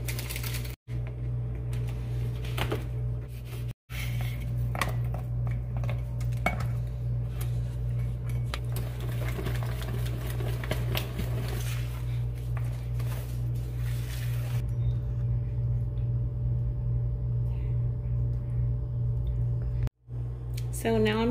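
Snickers and Twix candy bars are chopped on a kitchen board with a knife, giving a steady run of quick tapping cuts with brief clinks, close and fairly loud.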